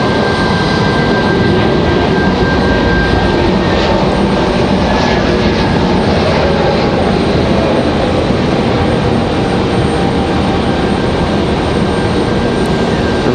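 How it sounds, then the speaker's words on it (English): A plane departing Raleigh-Durham International Airport gives off a loud, steady jet engine roar that holds unbroken for the whole stretch. "This will be his second departure of the day here from RDU."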